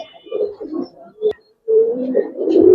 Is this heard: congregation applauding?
no